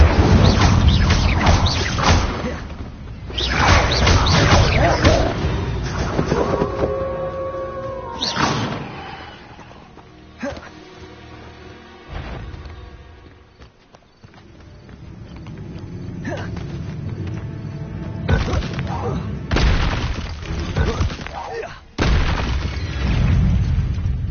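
Incendio fire spells are cast repeatedly in the video game Hogwarts Legacy, with booming fiery bursts and whooshes that rise and fall over loud, continuous game music and combat noise, accompanied by occasional spoken voice lines.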